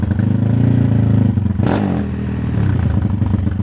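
A motorcycle, a Today fitted with a 371cc engine, runs loud and close with a steady rumble and a brief rough flare partway through.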